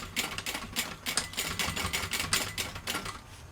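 Sewing machine top stitching a fabric bag, producing a rapid, rhythmic, close clattering of needle strokes in uneven bursts throughout.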